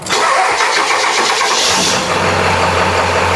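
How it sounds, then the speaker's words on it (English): A 7.3L Powerstroke diesel truck engine with a failing starter cranks sluggishly with a whirring starter, then catches and settles into a steady low rumble, loud and close. "starter's also going out, so it's going to start kind of slow"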